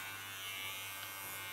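An electric hair clipper cuts a short pixie haircut in silver-gray hair, giving a brief, steady, close buzzing hum with no talking.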